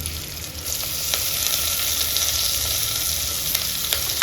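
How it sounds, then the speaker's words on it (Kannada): Ginger garlic paste and onions frying together in hot oil for drumstick dal sambar, a loud, continuous close sizzle with a few faint stirring clicks. "ಈಗ ಈ ಟೈಮ್ದಲ್ಲಿ ಏನು ಹಾಕ್ಬೇಕಪ್ಪ ಅಂದರೆ ಶುಂಠಿ ಬೆಳ್ಳುಳ್ಳಿ ಪೇಸ್ಟ್ ಹಾಕ್ತಾಯಿದ್ದೀನಿ ನೋಡಿ."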